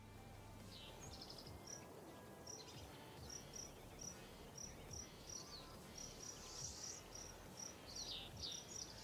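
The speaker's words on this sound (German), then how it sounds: "Da zirpen die Grillen." Crickets in the Zoo Simulator game chirp in steady, evenly spaced high pulses over a soft, low ambient bed, faint and continuous, with occasional bird calls.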